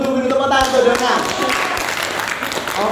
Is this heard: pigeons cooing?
no